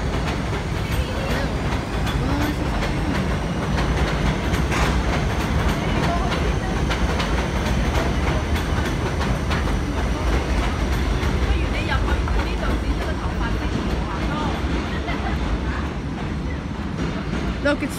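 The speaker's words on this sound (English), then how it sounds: "Look, it's switching tracks. It's switching tracks back to the local." An R68 D subway train switches tracks back to the local line near Bay Parkway, heard from street level as a steady loud rumble with clattering wheel clicks throughout.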